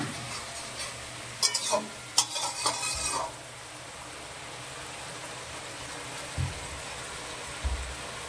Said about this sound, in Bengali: টমেটো পিউরিটা দিয়ে ভালো করে এবার ব্রাউন করে ভেজে নেব